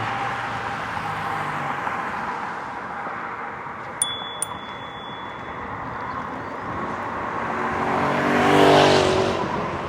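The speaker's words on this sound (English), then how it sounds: "It's always noisy on this street. They're really noisy cars." Traffic noise rolls along a busy street as cars pass, a broad steady road roar with one vehicle swelling louder and nearer toward the end, heard from the roadside while riding an ebike.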